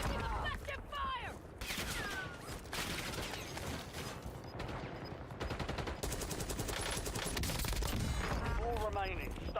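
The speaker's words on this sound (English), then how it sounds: "Taking effective fire." Incoming gunfire in Call of Duty Warzone, with sustained bursts of rapid shots and crackling impacts filling the scene while a voice speaks over the shooting.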